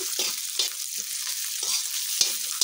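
Tocino and sayote sizzling in a pan, close steady frying crackle with a few sharper pops and stirring scrapes over a short stretch.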